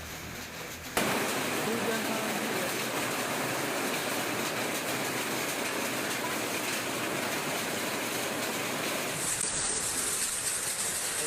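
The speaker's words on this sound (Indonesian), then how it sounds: "Hujan es yang terjadi menimbulkan suara yang cukup keras." Hailstorm in South Jakarta, a dense, steady broadband roar of hailstones pounding surfaces, starting abruptly after a second and continuing loud and unbroken throughout, with no voices.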